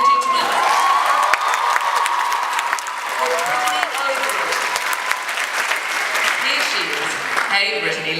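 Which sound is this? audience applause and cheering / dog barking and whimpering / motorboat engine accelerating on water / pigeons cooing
audience applause and cheering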